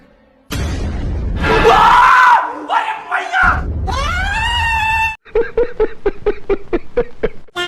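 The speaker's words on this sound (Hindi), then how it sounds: "भूत से ये दीदी तो डर गई और चिल्लाने लगी।" A woman shrieks in fright at a ghost in an Indian movie scene: loud sustained screams and wails over crowd-like noise, then a rising cry and a rapid series of short rhythmic yelps.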